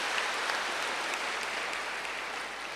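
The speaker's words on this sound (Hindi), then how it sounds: "ताली बजाओ अपने लिए।" Audience clapping at a spiritual discourse held for Mahashivratri: dense, steady applause from a large crowd that holds at an even level for about three seconds, with no talking over it.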